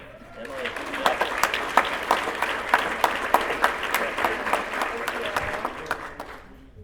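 An audience at a Teacher of the Year award banquet claps for a winner, with strong rhythmic clapping that rises, holds for several seconds, then tapers off.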